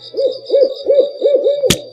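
An owl hoots at night, a steady series of five rhythmic calls repeating about twice a second, close and clear, with one brief sharp click near the end.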